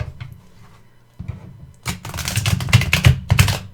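A stiff tarot card deck is riffle shuffled up close: quiet handling at first, then a dense burst of rapid crisp flicking clicks as the cards interleave, loud and near.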